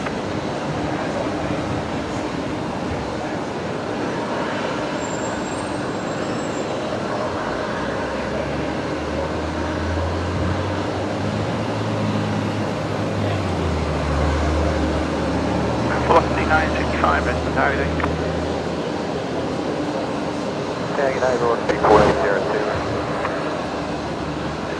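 An airliner on approach to Brisbane Airport, crabbing in a crosswind about four kilometres out, gives a distant steady roar with a low droning rumble building in the middle, under a constant outdoor background.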